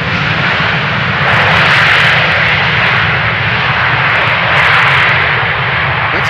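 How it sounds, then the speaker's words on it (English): A Smartwings Boeing 737 landing on runway 27 at Amsterdam Schiphol gives a loud, continuous jet engine roar with broad rushing noise that swells slightly twice, heard from the ground nearby with no talking. "Meanwhile, this Boeing 737 from smartwings.com"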